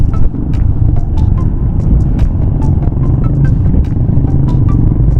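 A motorcycle rides over a broken, once-paved rough road on the way to Montalban, Rizal, its engine rumbling steadily up close while loose rattles and knocks from the bumpy surface tick through the ride.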